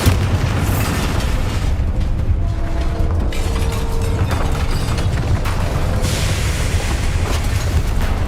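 Bombarda spell explosions in the Hogwarts Legacy video game, a loud continuous stretch of booming blasts and rumbling impacts with mechanical clatter, dense and sustained throughout without speech.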